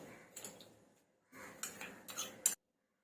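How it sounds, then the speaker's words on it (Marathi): A spoon clinks and scrapes against a clay pot while whisking curd, in a few quick bursts of light tapping separated by a short pause, close and quiet. "एक चमचा मी दही घेतलंय चांगलं दही आपण फेटून घ्यायचं"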